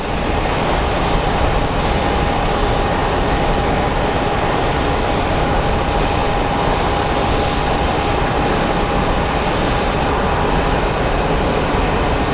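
Loud, steady roar of a Southwest airliner landing at Sky Harbor airport in Phoenix, a continuous engine drone with a faint whine held throughout, no voices.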